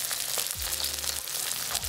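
Chicken legs pan frying skin-side down in a flat wok over low heat for curry chicken, giving a steady continuous sizzle with a few soft clanks of utensils against the pan.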